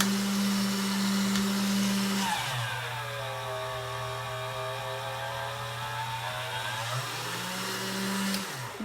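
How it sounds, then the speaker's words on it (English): Polymer clay is fed through a hand-cranked pasta machine on its widest setting: a loud grinding, humming mechanical drone whose pitch drops as the clay passes through the rollers, then rises again, heard alone and close. "I'm going to process my clay, so I'm going to run it through my pasta machine."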